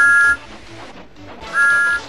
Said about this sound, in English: they always whistled when they passed the little lonely cottage